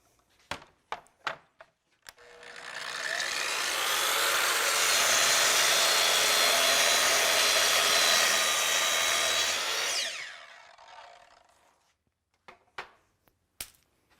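A Kreg adaptive cutting system saw makes a trim cut through a wooden board: the motor spins up, then a loud steady cutting whine runs for about eight seconds and winds down, framed by a few sharp knocks and clicks.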